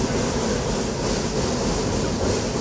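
The Roaring Camp steam train works uphill under load in a continuous, loud, broadband rumble and hiss with a close, dense roar and no distinct chuff beats.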